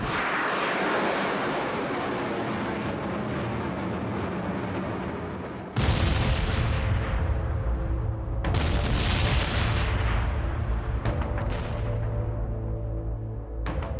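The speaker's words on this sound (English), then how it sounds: "The first American bombardments fell on Afghanistan on October 7, 2001." American bombardment explosions in Afghanistan: after a steady windy rumble, a sudden loud blast hits, followed by further heavy booms and sharp cracks, fairly close and with no talking.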